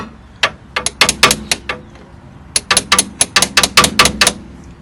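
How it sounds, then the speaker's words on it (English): Sharp metallic hammer strikes on a lever ring out while removing the front CV joint on a Volkswagen T3 Syncro, in two bursts of rapid, uneven blows, close and loud, separated by a brief pause. "The important thing is to keep hitting it with the hammer."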